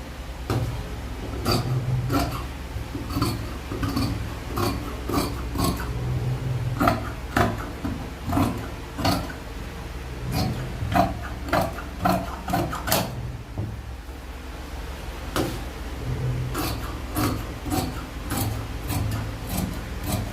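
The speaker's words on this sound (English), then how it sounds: "Cut out my yoke." Scissors cut through fabric for a padded top yoke, making a close run of repeated crisp snips and rustling scrapes in an irregular rhythm with no talk.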